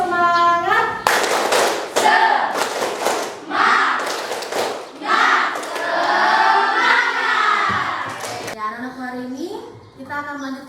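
A classroom of children performs a rhythmic spirit clap, bursts of group hand claps alternating with chanted voices, led by a teacher who speaks before and after, loud and close in the room.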